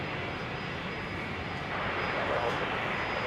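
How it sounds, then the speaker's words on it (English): A Jetstar A321neo jet taxiing out for departure at Brisbane Airport, heard as a steady broad engine roar at a distance that swells slightly partway through, with someone talking over it. "looks like we've got the Jetstar 321 Neo taxiing out, ready for a departure to Auckland"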